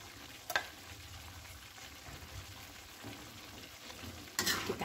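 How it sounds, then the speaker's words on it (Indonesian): Tomatoes and chili stirred in a frying pan, a steady sizzle with soft scraping strokes and a couple of sharper spatula knocks against the pan, nearby and with no voices. "Kita aduk sampai merata."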